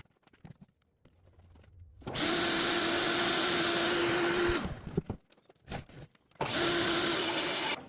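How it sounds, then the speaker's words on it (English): Table saw ripping a board into two strips, a loud whining blade under load that starts abruptly, runs a couple of seconds, winds down, then starts again, with a few knocks and handling sounds in between. "I'll run it through the table saw and I'll make it into 2."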